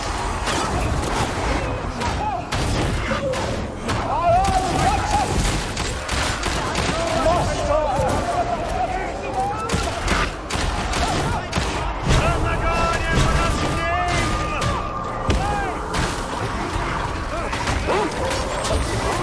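Barrels blow up under gunfire in the Darktide video game, with dense rapid shots and booming blasts crowding a long, loud stretch of combat while a voice talks over it.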